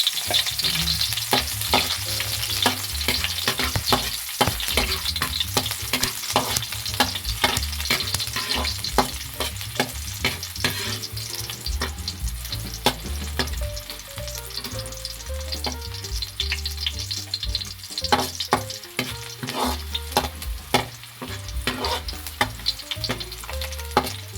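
Garlic frying in a pan as the first step of Filipino squid adobo, a steady crackling sizzle with intermittent scraping stirs, close and continuous, without speech.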